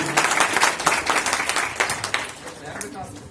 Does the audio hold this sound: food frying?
no